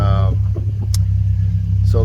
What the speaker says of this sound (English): So the car's running, I've got it warming up